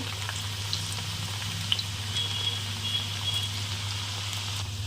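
Chopped raw onions fry with amla in a pan over a low gas flame, giving a steady soft sizzle with faint crackles and a low hum underneath.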